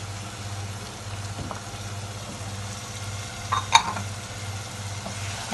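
Shrimp and crab sizzle steadily in a pan as a seafood paella is stirred. The close, even frying hiss is broken near the end by a few sharp scrapes and clinks of the utensil against the pan.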